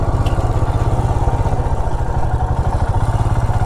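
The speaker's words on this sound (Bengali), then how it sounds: "বাইকটা ঘুরিয়ে নিই এখানে।" A motorcycle engine runs at a steady, throbbing idle-to-low rev while the bike is turned around on a roadside in Assam. The even, rapid pulsing is loud and close throughout, with no one speaking.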